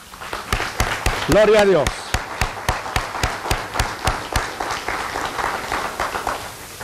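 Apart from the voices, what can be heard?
church congregation applauding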